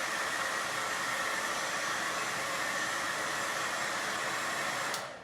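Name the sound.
hair dryer blowing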